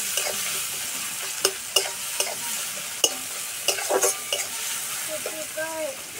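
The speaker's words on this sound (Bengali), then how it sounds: "পেঁয়াজটা হালকা করে ভেজে নেব।" Chopped onions lightly frying in oil for village-style chow mein, a soft steady sizzle broken by sharp clinks and scrapes of a spatula stirring against the pan, close by with no voices.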